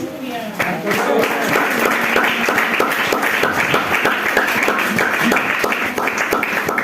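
Church congregation clapping for God during a Spanish-language sermon, dense sustained applause that starts after a brief moment of voice and keeps an even, loud wash with a faint rhythmic pulse.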